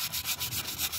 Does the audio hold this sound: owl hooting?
no